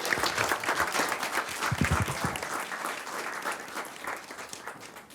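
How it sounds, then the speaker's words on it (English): A round of applause from the audience at a school board business meeting, steady dense clapping that fills the room from start to finish and eases off slightly toward the end. "Let's give both these ladies another round of applause."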